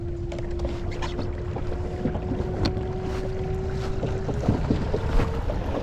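A Jonny Boats Bass 100 kayak runs on the water under a Newport NT30 3HP electric outboard. The motor gives a steady hum, with water swishing and wind buffeting the microphone close up.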